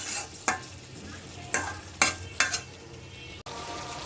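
Prawns and jackfruit fry in hot oil under a soft continuous sizzle, with four sharp scraping stirs of a spatula against the pan and a brief clack near the end, close by and without talk.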